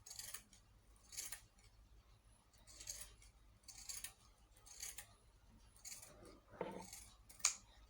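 Scissors snip repeatedly through turban fabric to even its edge, a series of short crisp cuts in a quiet room with no talking.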